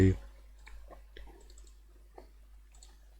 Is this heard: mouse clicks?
yes